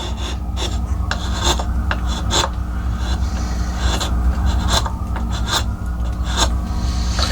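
Wood being cut away by hand on an oak leaf carving, a steady close rasping scrape with repeated sharp strokes running continuously throughout, no voices.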